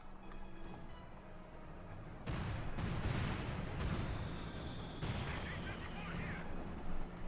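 In a Company of Heroes 2 match, a Russian mortar keeps firing, with heavy booming impacts and explosions rolling in after a quieter stretch, layered with other battlefield noise.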